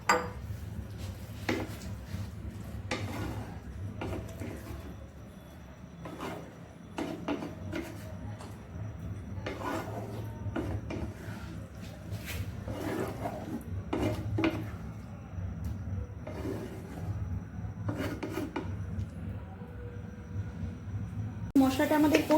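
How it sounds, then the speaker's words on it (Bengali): Potatoes being stirred into spiced masala in a pan, with repeated utensil knocks and scrapes over a low background hum and a soft, faint sizzle, some indistinct voices. "আলুটা সমেত আমরা কষাবো মশলাটাকে"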